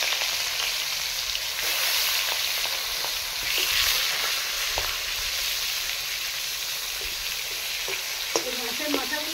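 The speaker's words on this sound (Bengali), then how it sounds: "বন্ধুরা দেখুন তেলটা গরম হয়ে গেছে, আমি মাছের মাথাগুলো দিয়ে দিচ্ছি।" Fish heads frying in hot oil in a pan for a Bengali pumpkin and Malabar spinach chhechra, a steady close sizzle with small crackles and a few faint utensil clinks, no talking.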